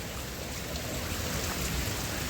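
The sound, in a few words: heavy rain falling at night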